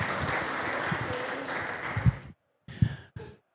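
Clapping from a crowd at a women's football club squad presentation greets a left-back, a steady modest round of applause that cuts off abruptly, followed by a couple of short, isolated bursts of sound.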